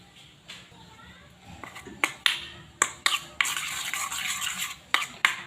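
Tomato chutney being stirred in a bowl with salt and oil, a spoon scraping and clinking against the sides in quick bursts, the sounds growing busier and louder partway through, with no talk.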